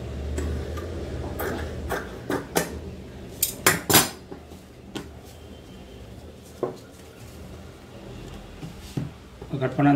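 Scissors snip through fabric to shape a round churidar neck, making a series of crisp, irregular clicking cuts up close while a voice talks over them.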